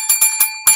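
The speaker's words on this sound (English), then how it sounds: "somebody else just rang the doorbell" A doorbell rings with several short, bright tones in quick succession, the last strike a little louder, heard alone with no talking.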